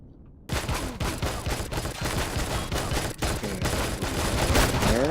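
Turret fire in the space-building game Empyrion: a sudden, sustained rapid burst of loud gunfire, dense overlapping shots continuing for several seconds at close range without pause.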